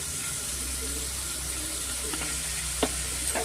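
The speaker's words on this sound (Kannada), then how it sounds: "ಮಶ್ರೂಮು ಈರುಳ್ಳಿ ಎಲ್ಲ ಸ್ವಲ್ಪ ಎಣ್ಣೆಯಲ್ಲಿ ಚೆನ್ನಾಗಿ ಫ್ರೈ ಆಗಬೇಕು." Mushrooms and onions fry in a little oil for a green mushroom pulao, giving a steady close sizzle with a few brief scraping stirs near the end.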